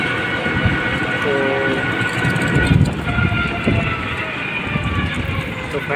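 A train rumbles past close by near Gangarampur railway station, with a steady roar, rail clatter and a brief horn tone, while voices talk over the noise.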